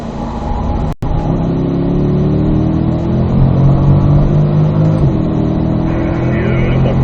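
A Corvette engine accelerates on a race track, a loud, close, sustained drone whose pitch climbs steadily under light throttle after a brief sharp dropout; no one talks.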